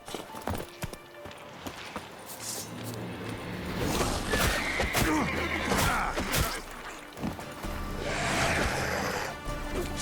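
Geralt's horse Roach in The Witcher 3, hooves clip-clopping at a gallop with a neigh, under a steady game soundscape with rushing, surf-like ambience and a faint voice.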